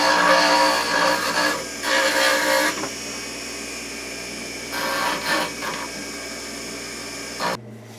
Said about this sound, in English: I take some burrs just to start to smooth this off